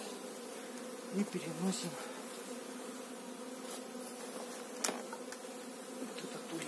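Local honeybees buzz around a hive at an apiary during a colony merge, a steady close swarm drone that runs throughout, with a few brief louder passes and a short spoken phrase early on.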